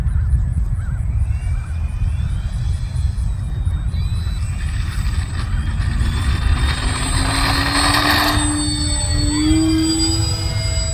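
An FMS Ranger V2 1220mm RC model airplane taxis and takes off, its electric motor whine rising steadily in pitch over constant outdoor noise, heard from a distance without talk.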